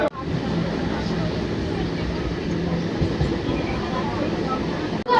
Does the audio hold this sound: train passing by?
yes